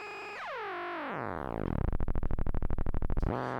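Landscape Stereo Field synthesizer module producing strange sounds: warbling tones sweep downward into a low drone, then break into a rapid pulsing buzz before a tone rises again; loud and alone.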